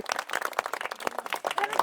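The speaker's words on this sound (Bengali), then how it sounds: "সবাই হাততালি।" Audience clapping at a village dragon fruit eating challenge, a dense crackle of many hands for under two seconds, fairly loud and close, with no talk over it.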